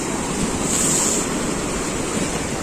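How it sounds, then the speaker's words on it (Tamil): Ocean waves surge onto the shore at Arichal Munai near Dhanushkodi, a constant roaring wash of surf close by, mixed with gusty wind buffeting the microphone. "அலை டைமாக ரொம்ப ஓவராக வந்துட்டுருக்கு."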